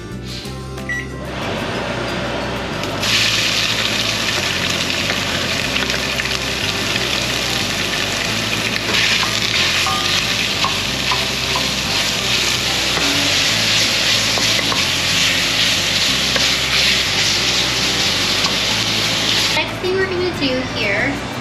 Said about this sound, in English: Okay, now our oil should be preheated. I'm gonna turn my vent fan on and we are gonna brown this sausage